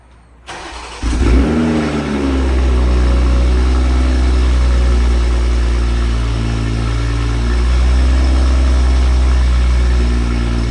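A G42 car with an Active Autowerks downpipe cranks and fires up in Sport Individual mode on a morning startup with a loud burst, then settles into a steady, deep idle close by.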